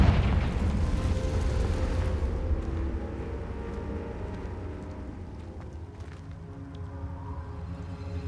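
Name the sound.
Confringo explosive spell cast in the video game Hogwarts Legacy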